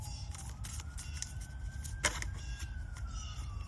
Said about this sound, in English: There's sirens going off in the background as well.